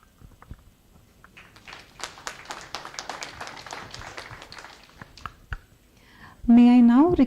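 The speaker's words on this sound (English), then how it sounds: "Round of applause, please." Scattered clapping from a modest audience at a medical CME workshop rises and fades over a few seconds, fairly faint and thin, before a loud voice cuts in at the end.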